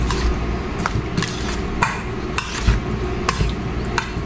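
Onion, ginger and chili being stirred into yellowfin tuna kinilaw in a bowl, with a series of light clinks and scrapes of a utensil against the dish at an irregular pace, close and fairly soft.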